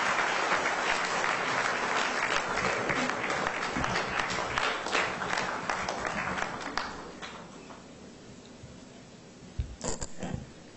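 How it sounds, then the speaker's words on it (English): Sustained audience applause fills a hall at a 2014 corporate excellence awards ceremony in Goa, loud and dense at first, then thinning and fading, with a few final bursts of clapping near the end. "Give him a big round of applause"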